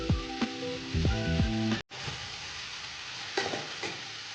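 Pork tongue going into a sweet simmering sauce in a pot, with a few clinks and knocks of utensils early on, then a low bubbling sizzle with scattered taps, no talking.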